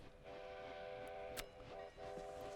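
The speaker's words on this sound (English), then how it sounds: "Yep, the train." Train sounds from the 1990 film Back to the Future Part III, heard quietly: a sustained steam-whistle tone with a short pause and restart, over a faint rumbling background and a brief sharp click.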